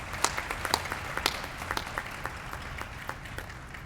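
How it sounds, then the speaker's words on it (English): An awards ceremony audience claps in sustained applause, sharp individual claps standing out from the steady patter, with no talk over it. "can we give a great round of applause to her in her absence?"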